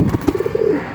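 A thin pigeon's soft, low cooing, a short series of murmuring coos in quick succession, close by.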